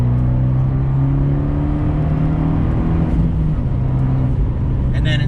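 A 2020 Fiat 124 Spider Abarth fitted with a Record Monza exhaust drones loudly and steadily while driving, a close, continuous engine and exhaust tone with no talking over it.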